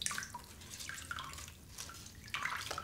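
Water drips and trickles from a squeezed handful of mushroom paper pulp, a quiet run of small splashes in irregular clusters, close and soft, with no voices.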